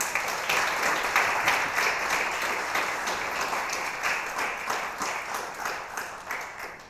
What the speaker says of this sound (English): if I wasn't holding this microphone, I'd be clapping vigorously, so please help me out.